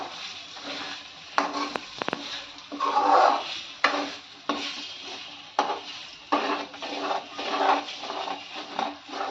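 Beaten eggs being stirred in a pan for egg bhurji: repeated scraping and clinking of a spoon against the pan, with irregular strokes and a faint background sizzle, and no talking.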